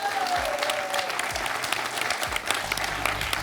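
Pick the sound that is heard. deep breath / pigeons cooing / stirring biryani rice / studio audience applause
studio audience applause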